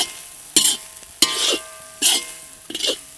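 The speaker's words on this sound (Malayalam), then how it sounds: "ഈ 5 തേങ്ങയും നമുക്ക് നല്ലപോലെ ഒന്ന് വറുത്തെടുക്കാം." Five grated coconuts roast in oil in a pan, with four separate bursts of scraping stirring and soft sizzling spaced about a second apart against a quiet background.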